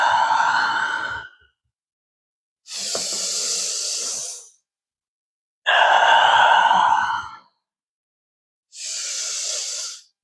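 Four long, intense breaths during a hip-opening yoga exercise, each a loud airy rush lasting one to two seconds, separated by short silences, close to the microphone.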